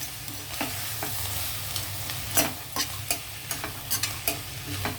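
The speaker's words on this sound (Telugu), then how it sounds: "ఇవన్నీ కొంచెం ఒక 1 మినిట్ అలా వేగనిద్దామండి" Tomatoes and spices frying in a pan for a spinach pulao, a steady close sizzle with repeated scraping stirs and clinks of a spoon through the mixture.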